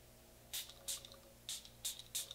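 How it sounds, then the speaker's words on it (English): A Catrice HD Active Performance Freezing Spray setting mist is spritzed onto a face in five short, crisp hissing bursts, close and quiet against a faint background hum. "I'm gonna spritz my face with my Catrice HD Active Performance Freezing Spray"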